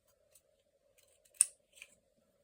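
Scissors trim the bottom off a paper template for a Happy Planner spread: a few faint snips, with one sharper cut standing out in a quiet room.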